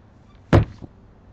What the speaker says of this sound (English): Doors come down,